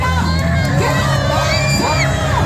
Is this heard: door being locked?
no